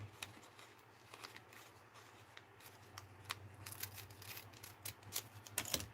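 Scissors cutting fabric scraps in a sewing workroom, a series of irregular snips and crisp clicks over a low steady hum, growing busier toward the end.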